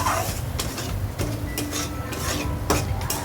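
Prawns are stirred into sizzling spice masala in a pan. A spatula clanks and scrapes repeatedly against the metal over a constant frying hiss.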